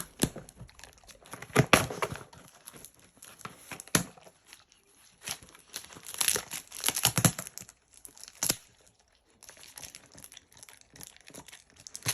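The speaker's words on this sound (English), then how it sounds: "Just open the box." Packing tape torn off a cardboard box in sharp ripping bursts, with crinkling and crumpling of tape and paper spread unevenly across the stretch, some loud and close and some quieter.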